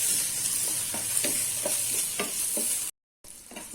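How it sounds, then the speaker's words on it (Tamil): Small shallots and a small tomato sautéing in oil in a pan, a loud close sizzle with rhythmic spatula strokes, briefly cut to silence before the sizzle resumes. "பாருங்க, தக்காளியும் வெங்காயமும் ஓரளவுக்கு வதங்கிடுச்சு"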